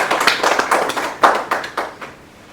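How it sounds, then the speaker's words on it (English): A small group claps at an awards summit as a speaker is called to the podium, a short burst of uneven hand claps that swells and then tapers off, close and fairly loud with no talking. "A round of applause for Chase, please."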